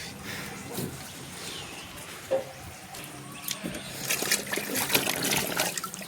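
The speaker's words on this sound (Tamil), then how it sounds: "தண்ணி நிரம்பி டேங்க் ஃபுல்லாகிடுச்சு." Water trickles and splashes into a washing machine tank in a soft, steady dribble. The flow is faint and close, with occasional small splatters and no talk.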